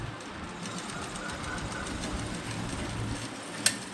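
A sewing machine stitches palazzo pants in a steady, continuous whirring run that holds for several seconds, ending with a single sharp click.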